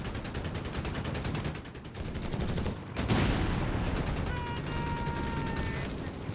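Machine gun fire and scattered gunshots in Company of Heroes 3, a World War II strategy game, with a dense, continuous battle din and a sharp crack partway through.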